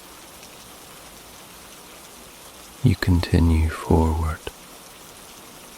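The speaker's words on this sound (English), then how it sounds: "listening to the rain travel from leaf to leaf" Rain falling on leaves among ferns and palms, a soft, steady hiss of drops throughout, with a calm voice speaking briefly over it partway through.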